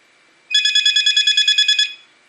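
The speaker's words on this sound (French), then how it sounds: "Excusez-moi pour le téléphone, ça va s'arrêter." A phone rings in a quick electronic trill, a steady run of about twelve rapid pulses lasting over a second, loud and close against a quiet room.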